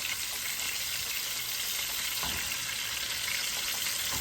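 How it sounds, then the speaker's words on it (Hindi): Shish kebab skewers sizzle in a frying pan with a constant, even hiss. The sound is close and moderately loud, without pauses or voices. "इसी तरह सारी स्क्यूअर्स को पलट पलट के फ्राई कर लेंगे।"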